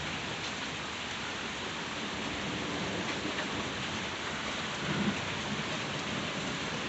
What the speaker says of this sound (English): Does sound like the rain's trying to pick up a little bit.